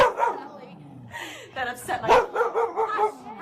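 An anxious small dog named Ellie yips and barks in short bursts close by, mixed with a person talking over the barks.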